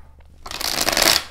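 A deck of tarot cards being shuffled up close, a quick riffling burst that builds over about a second, then stops.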